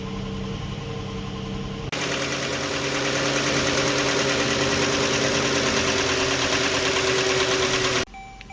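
A clattery Dodge 3.6 engine idles close by with a steady ticking rumble, growing slightly louder after a couple of seconds and cutting off near the end.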